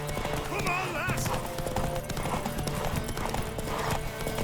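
Rapid hoofbeats of a galloping horse drum steadily throughout in The Witcher 3: Wild Hunt on PS5, mixed with a busy game soundscape, a brief whinny and voices talking underneath.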